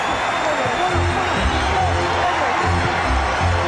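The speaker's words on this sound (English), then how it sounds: "Crowd reacting to the defensive play of Anthony Mason" Arena crowd at an NBA game between the Suns and Knicks, Madison Square Garden 1995, roaring steadily in reaction to a defensive play, a dense continuous wash of cheering and voices throughout.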